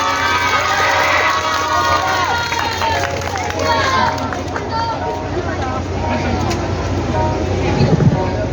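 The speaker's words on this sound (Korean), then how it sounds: "큰 박수로 맞이하여 주세요" A crowd at an outdoor weekly protest rally in Korea claps and cheers, with children shouting amid loud, continuous babble and noise.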